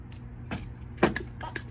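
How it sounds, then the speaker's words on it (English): Small metal lug nuts handled and clinking together during a car tire change, a few sharp metallic clicks and rattles close by over a low background hum, with one louder clink near the middle. "I'm gonna take my lug nuts"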